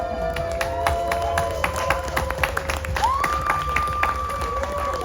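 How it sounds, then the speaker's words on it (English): An audience at an outdoor festival talk stage claps and cheers, scattered sharp claps beneath sustained whistling or tonal cries and a steady crowd murmur throughout. "I want everybody to stand up and give yourself a big round of applause"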